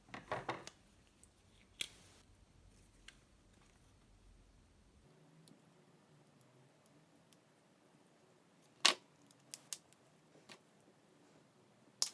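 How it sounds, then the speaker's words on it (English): Scissors cut extra pieces off the sides of a handmade tensegrity floating table, with sparse sharp snips and clicks scattered over a quiet background, a few louder cuts standing out. "Now I will cut the extra pieces from each of these sides."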